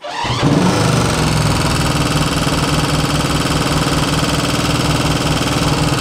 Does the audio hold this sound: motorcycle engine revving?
yes